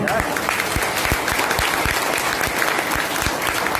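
A crowd claps loudly and steadily at a motivational talk, a thick, continuous burst of many hands close by, with sharp individual claps standing out and a voice briefly audible beneath.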